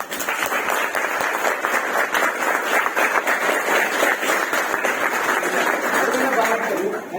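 Sustained applause from an audience at a network marketing session, dense and even throughout, a crowd clapping steadily at close range.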